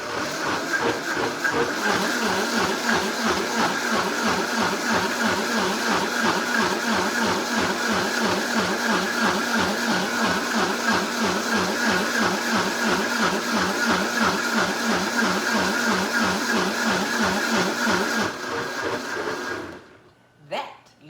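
An electric blender whirs steadily while blending a jerk chicken marinade, a loud continuous motor drone with a rhythmic pulsing that runs for about eighteen seconds before winding down and stopping.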